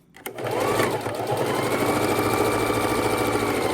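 A sewing machine runs steadily, topstitching about 1/16 inch along the edge of a fabric adult bib, a continuous close, loud whir after a brief start.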